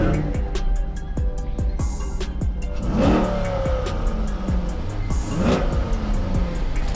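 A loud car engine runs and revs repeatedly, the roar rising and falling in bursts with some rattling, close by and without talk.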